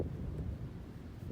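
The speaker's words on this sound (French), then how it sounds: "on se retrouve dans le front venteux de cet orage." Gusty wind from the leading front of a passing thunderstorm, a low continuous rumbling buffet of air against the microphone, fairly faint and steady.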